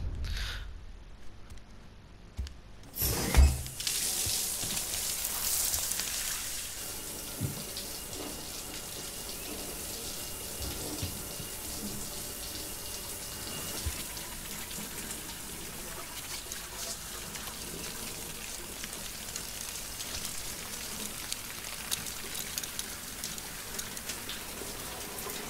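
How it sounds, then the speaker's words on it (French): Shower water running in the video game Death Stranding: after a brief louder burst, a steady hiss of falling water continues evenly for a long stretch, close and without talk. "Allez, on va prendre une douche."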